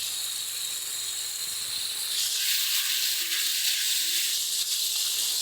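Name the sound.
spice masala with Kashmiri red chili powder sizzling as it fries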